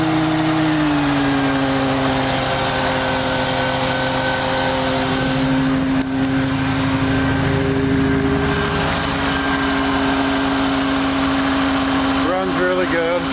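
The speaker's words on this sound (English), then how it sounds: "You can hear this 7-liter Ford run." A Ford 429 7-liter V8 truck engine idles steadily and evenly for a long stretch, a deep continuous rumble with a slight change in tone near the end.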